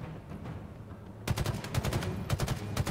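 Rapid automatic weapon fire in the Halo Infinite campaign, a dense burst of repeated close shots starting abruptly after a moment of low rumble, with a brief pause before another burst.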